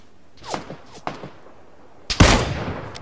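Gunfire in a video game: a few faint scattered shots, then one loud close blast with a decaying tail near the end.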